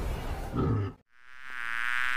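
A cartoon bee buzzes in an animated learning piece, a steady, fairly loud insect hum that cuts out briefly near the middle, then returns as a smoother, higher drone.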